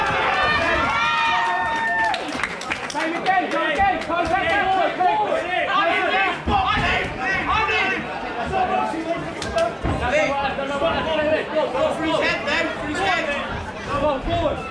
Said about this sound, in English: Let's have a big cheer for the fighters.